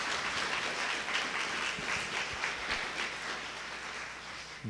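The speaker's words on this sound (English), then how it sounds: "let's all recognize that by giving all ourselves a great big round of applause" At a North Carolina National History Day awards ceremony, an audience gives a sustained round of applause, a soft, even roar of many hands that stays fairly distant and continuous throughout.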